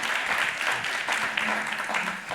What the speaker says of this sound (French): vous pouvez l'applaudir, Pascal Moulinier